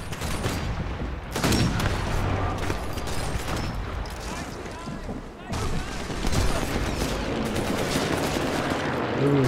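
Gunfire and heavy guns in Sniper Elite 4 on San Celini Island: rapid machine-gun bursts and booming shots rattle almost continuously, loud and close, with a short lull before firing resumes.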